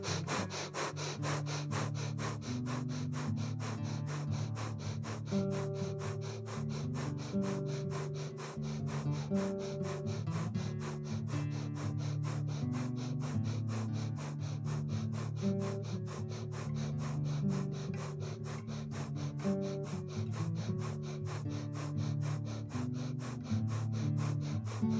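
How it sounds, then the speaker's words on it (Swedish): Breath of fire pranayama in an energy meditation: rapid, forceful rhythmic exhalations pulsing steadily and evenly throughout, over soft sustained background music, with no talking. "att du kan hålla på hur länge som helst med den här eldandningen"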